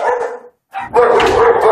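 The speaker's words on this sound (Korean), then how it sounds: "좀 전보다 더 맹렬하게 짖는 녀석" A dog wary of a stranger barks fiercely at close range, a loud bark followed by a brief pause and then another sustained, aggressive bark.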